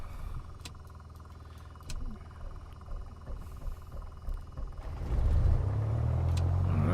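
A Piper PA-28 Warrior piston engine in Microsoft Flight Simulator 2024 cranks and then catches, jumping into a loud, steady rumbling idle after a few seconds of quieter mechanical clicking.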